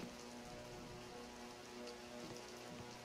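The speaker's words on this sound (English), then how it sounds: "it's raining and thunder and lightning" Steady rain pours in the video game Receiver 2, a dense, even wash of drops that fills the whole stretch without any clear thunder roll, heard alone with no voices.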